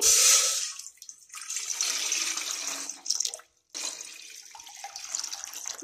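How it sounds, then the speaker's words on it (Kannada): About four glasses of water are poured into a cooking pot on the stove, a close rushing splash that stops briefly midway and then resumes, steady and fairly loud. "ನಾಲ್ಕು ಲೋಟದಷ್ಟು ನೀರು ಹಾಕ್ತಾಯಿದ್ದೀನಿ"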